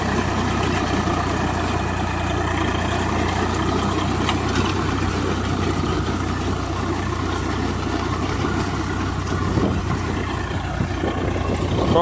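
A tractor engine runs steadily during onion sowing in a farm field, giving a continuous low, droning hum at moderate loudness with no talk over it.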